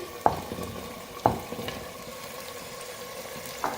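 Mutton pieces frying in curry gravy over a medium flame for aloo gosht, a steady close sizzle broken by three sharp utensil clinks against the pot.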